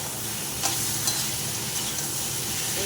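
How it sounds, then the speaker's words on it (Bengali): Vegetables with tomato, turmeric, cumin and coriander powder fry in a pan, giving a close, steady sizzle with a few light stirring scrapes. "এই সবজিগুলো ভালো করে ভাজা হয়ে যাক।"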